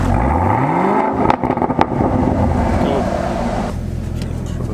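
Chevrolet Camaro ZL1 fitted with an AWE Track catback exhaust, revving loudly up close: a rising engine swell, a couple of sharp blips, then a settling idle rumble, with voices faintly mixed in.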